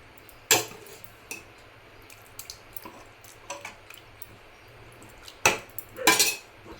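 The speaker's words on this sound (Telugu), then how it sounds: "మొత్తం ఇది గట్క అనేది వేసుకున్నాక ఇలా కలుపుకోవాలి లేకపోతే గడ్డ కడుతుంది" A spoon stirs maize gatka in a pot, giving soft wet squishes and light scraping clicks at irregular moments, close and fairly quiet, with a few sharper knocks toward the end.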